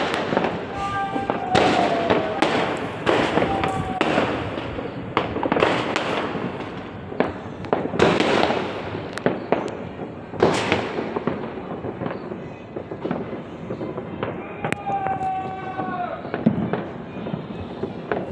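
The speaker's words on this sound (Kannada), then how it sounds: "ಒಂದು ಪಟಾಕಿ ಹೊಡೆದ್ರೆ ನನಗೆ ಭಯ ಆಯಿತು" Rapid sharp pops and crackling bursts of New Year firecrackers going off repeatedly, some near and loud, with voices talking and calling out between them.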